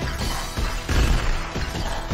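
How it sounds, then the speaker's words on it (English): Smashing up a phone box in the video game 198X: dense, loud crashing and shattering impacts pile up in quick succession, with a heavy hit near the middle and more breaking blows after it. "And obviously petty vandalism, smashing up phone boxes."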